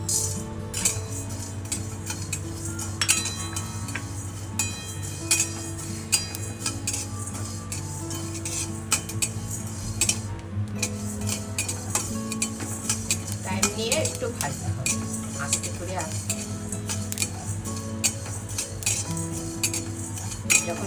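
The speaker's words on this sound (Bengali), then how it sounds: "এদিকে আমি এই মশলাটা ভেজে নিচ্ছি শুকনো কড়াতে ভেজে নিচ্ছি" A spice mix for amla pickle dry-roasting in a dry kadai, with a spatula scraping and clinking steadily against the metal wok throughout, close and busy over a low sizzle.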